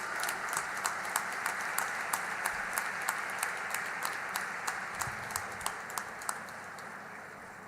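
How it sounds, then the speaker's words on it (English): An audience at an award ceremony gives a long round of applause, a steady moderate clatter of many hands, with a few sharper individual claps standing out at a regular beat. "Can we have a long round of applause for Hussain, please?"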